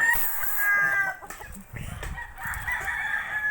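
A rooster crowing and clucking at close range, with a drawn-out crow at the start and shorter clucks and rustling following, fairly loud with no talk.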